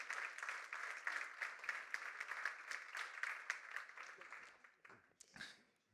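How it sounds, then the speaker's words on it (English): Audience at a conference session in Montreal applauds to welcome speakers onto the stage: dense, steady clapping for about five seconds, thinning out with a few sharper claps at the end. "Let's give them a warm round of applause as we welcome them up on stage"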